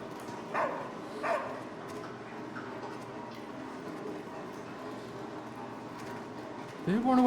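A dog barks in the video game Somerville, with a couple of short barks early on and another near the end, all set against a steady low background hum.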